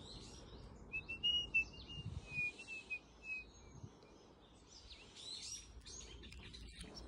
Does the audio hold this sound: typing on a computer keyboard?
no